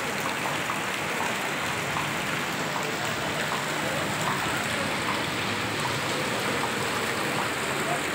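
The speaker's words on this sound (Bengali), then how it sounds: "সত্যি বৃষ্টি হয়ে একটুখানি ভাল লাগছে, ঠান্ডা হয়েছে একটুখানি" Rain pours down during a thunderstorm as a dense, even hiss that holds steady for the whole stretch, with no voices over it.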